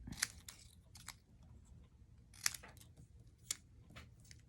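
Close scissors snipping through white cardstock stamped with red ink, with three crisp cuts spaced over a few seconds between light paper handling noises.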